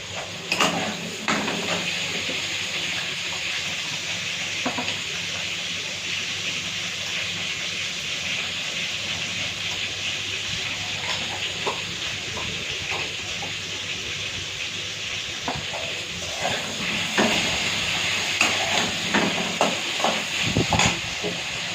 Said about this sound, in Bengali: হয়ে গেছে এখানে আলুটা ভাজা বসিয়েছি